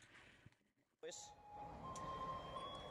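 A Japanese garbage truck plays a steady, tinkling melody outdoors. The music comes in after a short quiet gap and continues at a moderate distance under low street rumble and occasional talk.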